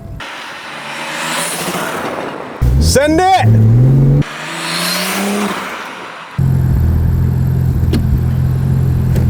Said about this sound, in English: Oh, we had turbo! We've got boost!